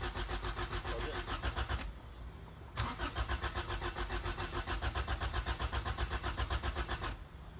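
A car engine cranks and catches after running out of gas, then settles into a rough, pulsing idle with a brief stumble and restart, close and steady, with no talk.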